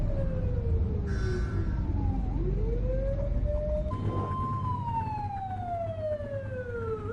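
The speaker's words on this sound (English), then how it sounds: "Turn that siren off. We don't need it on right now." A police siren wails with slow rising and falling sweeps over a constant low rumble of traffic or engine noise.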